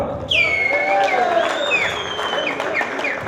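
Crowd at a reunion celebration applauds and cheers, with whistles and raised voices rising over steady clapping throughout.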